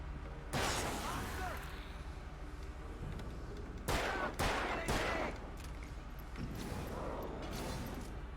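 Video game gunfire from Alan Wake, a run of loud close shots and bursts with sharp cracks around the middle, mixed with game ambience while a player talks over it.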